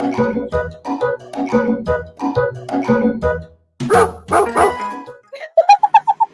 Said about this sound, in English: She had a bark in the intro.